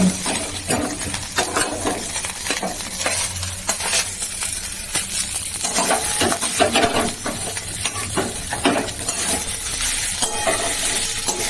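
Potatoes and green chilies fry in oil for a vegetarian curry, a loud, continuous close sizzle and crackle with frequent stirring scrapes and clinks throughout.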